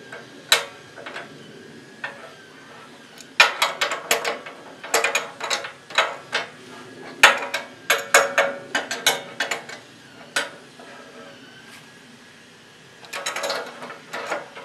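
A wrench ratchets in quick bursts of sharp, close clicks while releveling a Woodland Mills HM126 sawmill, with short pauses between runs of turns and no talking.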